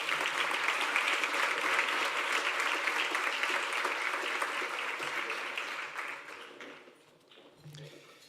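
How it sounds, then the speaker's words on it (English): Sustained applause from a conference audience at the Invest in Spain summit, a broad, steady roar of clapping that holds for several seconds before fading out, with a little voice activity near the end. "Let's give him a big round of applause"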